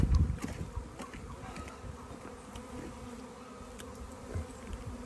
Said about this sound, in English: There's bees all over the nectar bottle.